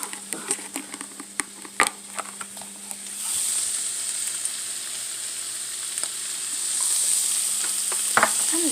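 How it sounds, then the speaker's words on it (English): Chilly beef and vegetables stir-fried in a pan for Hakka noodles, with scattered clinks and scrapes of stirring at first, then a steady loud sizzle and hiss of frying filling the rest. "you can see the veg is cooking pretty well"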